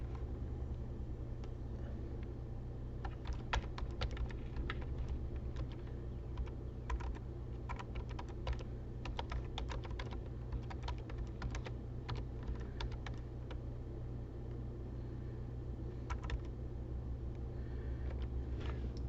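Soft rapid keystrokes on a computer keyboard come in scattered runs over a steady low rumble, close but faint, with no talking.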